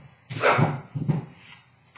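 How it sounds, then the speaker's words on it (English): A dog gives a couple of muffled barks or woofs nearby, two short bursts in an otherwise quiet room. "Sorry if you hear my dog."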